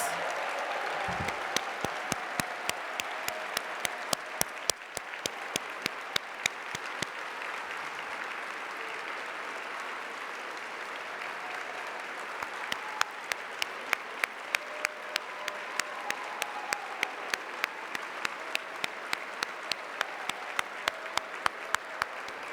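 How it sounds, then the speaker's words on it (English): Sustained audience applause for teachers at a school academic awards evening, the Academy of Academic Excellence Eddys 2016, a dense steady wash of clapping with sharp louder claps popping out near the front, running unbroken for over twenty seconds. "Would you please give a round of applause for all the teachers in the room tonight?"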